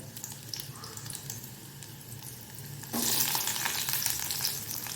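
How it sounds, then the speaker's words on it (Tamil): Garlic, ginger and three green chillies sauté in hot oil in a pan for Bengal gram dal chutney: a steady close sizzle that suddenly jumps louder and brighter about halfway through, with no talking. "இப்போது இது நல்லா வதங்கட்டும்"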